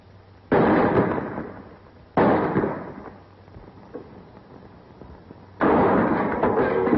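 Gunshots in a 1937 western film shootout: three loud, sharp reports spaced seconds apart, each decaying with a short echoing tail over a quiet, hissy background.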